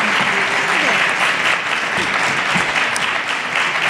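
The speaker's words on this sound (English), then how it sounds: "Let's give all of them a round of applause." Audience applause at a 2019 Spokane candidates forum on climate change, steady, dense clapping from a sizeable crowd in a hall, continuing evenly throughout.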